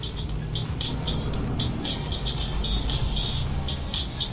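A racing video game plays on an Xperia ZQ phone during its first tutorial race, giving a steady, continuous car-engine drone with repeating high tonal pulses throughout, fairly loud and without speech.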